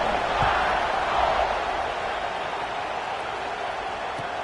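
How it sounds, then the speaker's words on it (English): A crowd at a college football game between Alabama and Akron hums in a broad, steady murmur, with announcer-like talk over the noise. "this crowd is buzzing after that last score"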